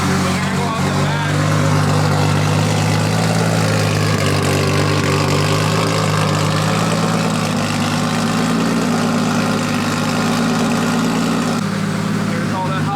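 A fully built Toyota 2JZ engine in a BMW E36 drift car idles at its first start, a loud, steady, throbbing low rumble with an exhaust leak, heard up close under talk.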